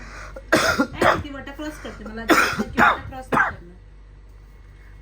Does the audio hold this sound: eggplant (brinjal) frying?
no